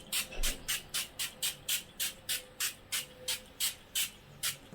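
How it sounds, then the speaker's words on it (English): Advanced Clinicals Collagen and Rosewater facial mist sprayed in a quick series of about fourteen short, soft hissing pumps, close and evenly rhythmic, with no talking. "I've been going in with the Advanced Clinicals Collagen and Rosewater facial mist"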